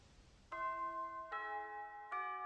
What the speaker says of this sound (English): The sound of the bell snaps me out of my daze.